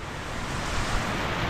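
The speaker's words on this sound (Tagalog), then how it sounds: "bumulusok na naman ang malakas na ulan" Heavy rain pours down in a dense, steady roar that fills the air evenly from low to high, loud and unbroken, with no voices.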